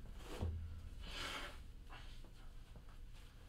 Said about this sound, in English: And apologies for my allergies or sniffling.